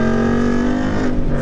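A 2016 Ford Mustang GT V8 holds a steady, loud, close engine drone during a brief pull, with a strong constant low hum and no talking over it.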